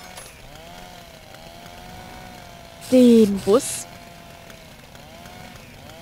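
Chainsaw-like shredding in the PC game Little Inferno, a short loud burst of two grinding bursts with a sharp pitch sweep, rising over quiet background music while someone talks briefly.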